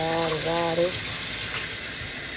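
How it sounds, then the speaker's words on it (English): Running tap water pours steadily and fairly loudly over raw beef kidney being rinsed in a sink, a continuous broadband splash that stays unbroken throughout, with a brief hum of voice near the start. "So now I'm gonna give it the first actual rinse."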